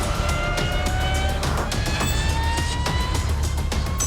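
Lightning electric motorcycle accelerating hard as the throttle opens, a steady loud whine with rising tones over road rumble, close and continuous.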